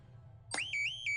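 An electronic alarm in an animated episode bursts on abruptly with a bright rising sweep, then holds loud, steady, high beeping tones that step slightly in pitch.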